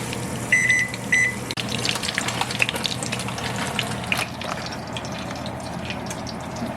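Curry leaves frying in hot oil on medium heat, a soft continuous sizzle and crackle close by, preceded by two short electronic beeps from the stove at the start, no speech.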